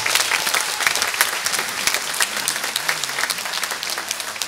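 A crowd at a high school choir spring concert claps loudly and evenly throughout, a dense continuous patter of many hands with no voices standing out.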